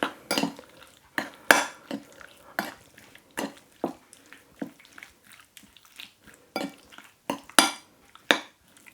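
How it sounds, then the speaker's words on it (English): A spoon scrapes and clinks against a bowl as beef is stirred in a marinade of light soy sauce and sesame oil, in a string of separate close, sharp taps and scrapes with short pauses between them. "Give that a stir."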